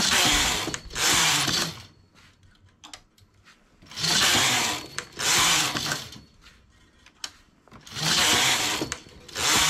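A domestic knitting machine carriage sweeps across the needle bed while knitting a culotte skirt, giving three long loud rasping clatters separated by quieter pauses with small clicks as needles are set.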